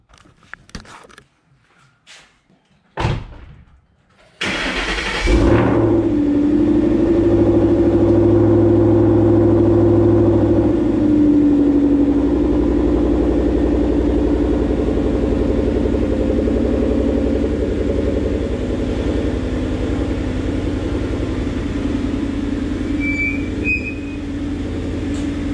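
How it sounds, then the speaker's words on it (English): A Ford Mustang with a Coyote V8 engine cold-starts after a few faint clicks, catching with a loud burst of revs that settles into a steady, rumbling high idle, close and continuous for the remaining twenty seconds. "probably try to set you guys up for a little cold start if we can"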